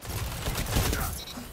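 Pulse rifle fire from Jorum's Claw during an Iron Banner Clash match on the Burnout map in Destiny, a quick rattling burst of several shots close up.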